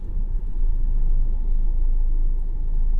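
A 2023 Honda HR-V rolling slowly through a parking lot, with a steady low engine and road rumble heard from inside the cabin, close and continuous with no talking.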